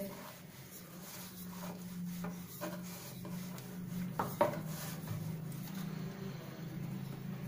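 A rolling pin works spinach paratha dough on a board with soft, repeated rubbing and scraping strokes, plus a few light knocks over a low steady hum.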